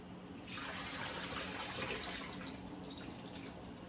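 Chicken brine is poured out into a kitchen sink, a steady, soft rush of water splashing for several seconds before it tapers slightly.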